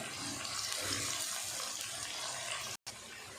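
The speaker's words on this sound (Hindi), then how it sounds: "तो अब ऑयल हमारा गर्म हो गया, तो इसमें मैं 2 मीडियम साइज़ की प्याज बारीक कटी हुई डाल देती हूँ।" Two medium onions, finely chopped, sizzle in hot oil with a steady, dense hiss that stays loud and close throughout, broken once by a short gap near the end; no one speaks.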